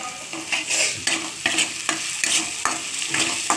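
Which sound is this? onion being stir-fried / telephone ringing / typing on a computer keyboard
onion being stir-fried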